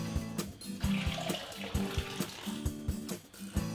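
Whey strains out of freshly curdled homemade soy tofu curds, a steady wet splashing and trickling with soft rhythmic pulses, close by and alone without speech.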